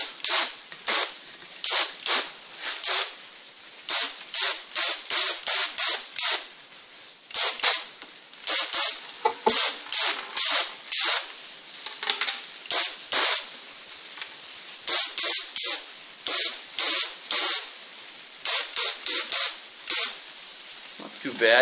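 Compressor-fed spray gun misting tinted varnish onto a birdseye maple fiddle, loud, close hissing bursts in quick trigger-pull clusters with short gaps between passes, repeating steadily for about twenty seconds.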